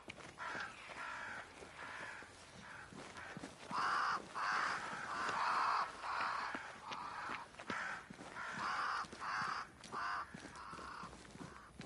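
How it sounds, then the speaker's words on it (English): Crows caw repeatedly in the video game Banishers: Ghosts of New Eden, harsh overlapping calls in bursts from a flock, moderately distant over quiet ambience with faint footsteps. "crows. They flock to that great tree up there."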